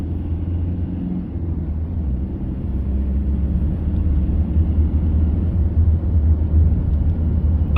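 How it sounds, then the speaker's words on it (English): Saturday road traffic passing nearby, a steady low rumble of car engines that swells slightly louder toward the end, with no voices. "At least it's Saturday traffic."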